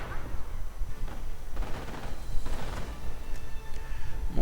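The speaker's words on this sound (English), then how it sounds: "Troops getting sniped, getting gunned down." Gunfire in a real-time strategy video game battle, with scattered shots and bursts crackling at irregular intervals over a low rumbling battlefield bed.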